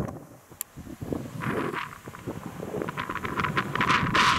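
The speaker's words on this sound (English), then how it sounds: "It's bloody windy up here on this hill" Gusty wind buffeting the microphone outdoors on a hill in Oxfordshire, building from quiet to strong roaring bursts, with some rustling beneath.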